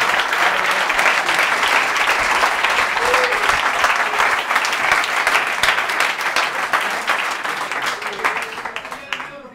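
Loud, dense audience applause at a public-speaking conference, many hands clapping in a continuous roar with a few voices and cheers mixed in, holding steady throughout and only easing slightly at the end.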